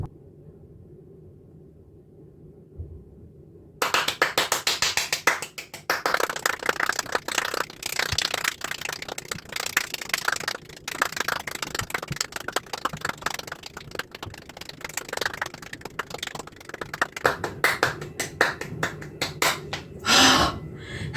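Rapid, continuous hand clapping for a homemade Taskmaster-style challenge, starting abruptly after a few seconds of quiet and carrying on steadily, loud and close, for about seventeen seconds.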